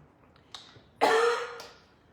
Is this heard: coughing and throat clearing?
yes